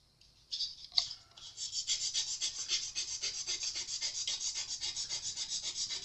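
Fine 800–1000 grit sandpaper rubs across a Stratocaster guitar's finish to level out scratches, making steady, rhythmic back-and-forth rasping strokes that are close and clear, with no other sounds.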